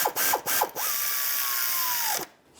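A ratchet tightens a 10mm bolt while a power steering pressure hose is replaced on a 2008-2017 Buick Enclave, giving three quick bursts of close clicking followed by a sustained higher squeak before falling quiet.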